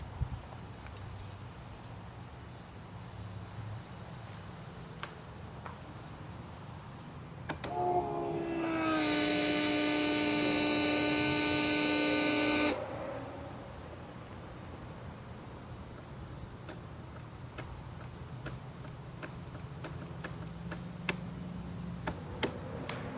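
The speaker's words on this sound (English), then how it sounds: "Fuel pump turned on and we got a couple clicks, but no cranking." Fuel pump on a Polaris 650 RXL personal watercraft switches on with a steady whirring hum lasting about five seconds, with a couple of faint clicks heard alongside and no engine cranking.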